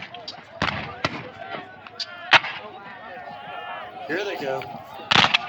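Civil War reenactment cannons fire across open fields, sounding as several loud, sharp booms spread through the clip, with crowd voices talking in between.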